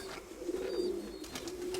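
A young pigeon in a loft coos softly in a low steady murmur, close and alone against faint background noise.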